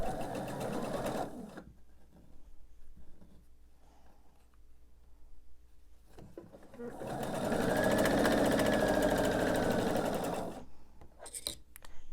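A sewing machine stitches a quilt block seam in a steady, close whirring run lasting a few seconds, after shorter stitching at the start, with a person talking quietly in the pauses.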